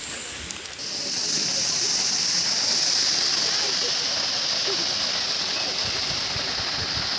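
Rushing water pours steadily at Lyngksiar waterfall in Meghalaya, a dense, loud, continuous roar that swells after the first second and holds constant, with faint voices underneath.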